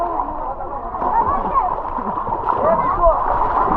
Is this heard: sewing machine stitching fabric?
no